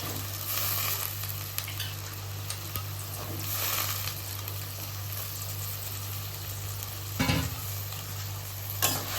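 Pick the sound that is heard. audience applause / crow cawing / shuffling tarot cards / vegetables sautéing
vegetables sautéing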